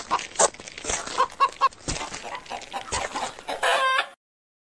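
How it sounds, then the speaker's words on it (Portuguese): A hen clucks repeatedly in short, choppy bursts, loud and close, with a few sharper squawks mixed in. "Dona Galinha, determinada, pegou seus ovinhos."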